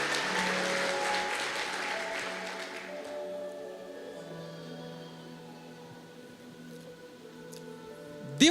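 A church congregation applauds in praise of God during a sermon, the clapping dense for the first three seconds and then thinning into a softer, sustained wash with faint tones beneath.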